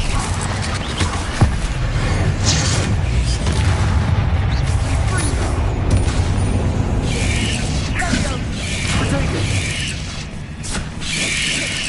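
Bombarda explosion spell cast in Hogwarts Legacy, a dense rumbling blast amid continuous combat clatter and effects, loud throughout with a spoken voice over it.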